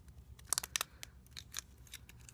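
Scissors snip through small plastic ties holding a doll in its packaging, a quick cluster of sharp close cuts followed by a few lighter clicks and rustles.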